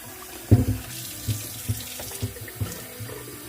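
Tap water runs into a kitchen sink while prawns are rinsed for a curry, a steady close splashing stream with a few soft thumps and knocks from the handling.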